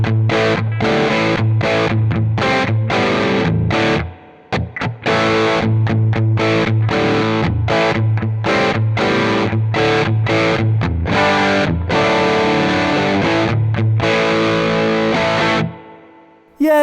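A distorted, overdriven Les Paul-style electric guitar plays loud chords and riffs with a short pause near the middle, ringing out and stopping near the end.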